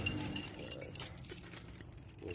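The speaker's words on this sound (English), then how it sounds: "Get my keys out." Car keys for a Toyota Yaris jangle and clink steadily as they are pulled out, a close, continuous metallic rattle over faint background noise.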